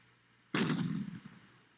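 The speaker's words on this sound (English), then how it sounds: "You enjoy those cannon shots." A single cannon shot from the video game The Alamo booms with a sudden sharp blast, then rumbles and decays over about half a second, with faint echoing thuds trailing after.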